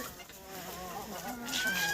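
Soft clucking from chickens eating dry bean leaves carries faintly over steady outdoor autumn background noise.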